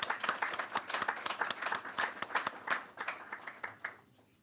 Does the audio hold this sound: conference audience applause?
yes